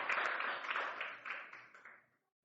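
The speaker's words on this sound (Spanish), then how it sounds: "Dale un fuerte aplauso a nuestro Señor Jesucristo" Congregation clapping together in a church service, a dense, steady burst of applause that fades out after about two seconds, leaving silence.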